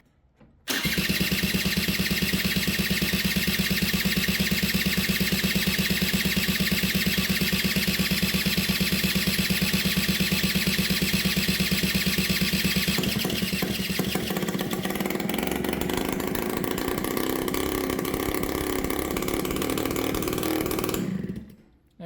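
A rebuilt, formerly seized Kymco Vibe scooter engine catches and runs steadily, a loud continuous buzzing drone close by that holds for about twenty seconds before cutting off abruptly.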